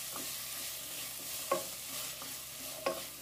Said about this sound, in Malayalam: ഞാൻ 3 ചെറിയ സവാളയാണ് എടുത്തിട്ടുള്ളത് ഇനി ഇത് നന്നായി വഴറ്റി കൊടുക്കണം